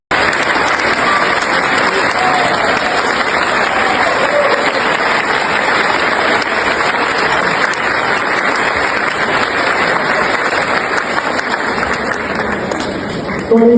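A church congregation applauding the arrival of governor Cláudio Castro, dense, loud sustained clapping from a large crowd that continues unbroken, with voices mixed into the din.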